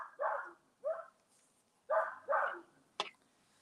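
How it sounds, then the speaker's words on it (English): A dog barks repeatedly at passing fire engines in the evening, giving five sharp, fairly close barks in uneven bursts with short pauses between them. No voices are heard. "The dog is barking at the fire engines."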